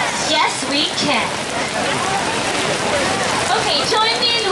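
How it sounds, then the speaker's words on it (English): Steady rain pattering down at an outdoor multifaith peace picnic and prayer service, a constant wash of drops under scattered voices of people talking nearby. "Will we be intimidated by this rain?"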